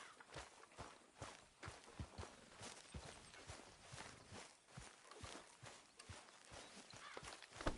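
Horse hooves walk at a steady pace in Red Dead Redemption 2, a regular series of soft, close thuds and clops continuing throughout at low volume.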